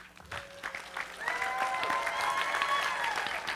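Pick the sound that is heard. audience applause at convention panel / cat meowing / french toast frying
audience applause at convention panel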